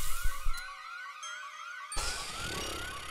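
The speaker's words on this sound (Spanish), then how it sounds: "¿Cómo coño apago la alarma, tío?" An electronic siren-like house alarm in the horror video game Devilry wails with a rising and falling tone, loud and steady, and swells sharply partway through. Brief thumps are heard near the start.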